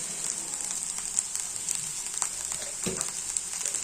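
Rice mixed with fried onions, ghee and sugar sizzling in a hot pan, a steady close frying hiss with occasional soft scrapes and clunks of stirring, no talking.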